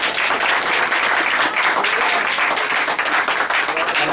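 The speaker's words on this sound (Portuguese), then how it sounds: "Palmas para Jesus." A church congregation claps together in steady, dense applause, loud and close, sustained for several seconds without a break.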